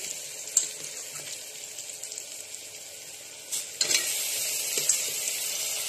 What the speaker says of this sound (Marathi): कांदा आता बऱ्यापैकी भाजला आहे, त्यात मटण टाकून घेऊया आपण